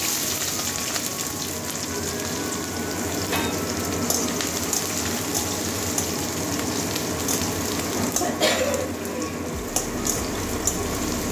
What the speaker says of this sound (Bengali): এবারে পেঁয়াজের কাঁচা গন্ধটা যাওয়া পর্যন্ত ভেজে নেবো।